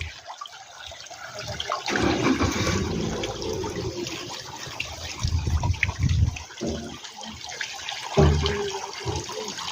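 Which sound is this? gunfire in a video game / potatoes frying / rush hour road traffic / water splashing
water splashing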